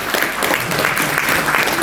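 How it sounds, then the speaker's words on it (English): Audience in a sales training seminar applauding, a dense steady patter of many hands clapping close by with no voice over it. "Give me a round of applause"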